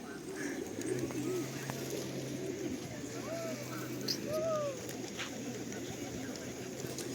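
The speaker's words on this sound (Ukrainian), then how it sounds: "Голуби." Soft pigeon coos recur a few times in Truskavets town centre against a busy outdoor background of chirping birds and a steady low hum.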